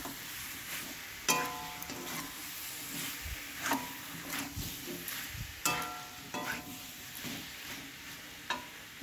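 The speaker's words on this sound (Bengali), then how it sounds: "মশলাটার সঙ্গে সয়াবিন আলুটাকে ভালো করে কষিয়ে নিচ্ছি" Fried soybean chunks and potato are stirred into a spice paste in a pan, with soft scraping strokes at an uneven rhythm over a faint, quiet sizzle.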